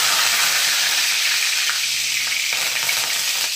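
Curry leaves sizzle loudly in hot oil for tempering, a dense, steady crackle and hiss that runs the whole time with no voices.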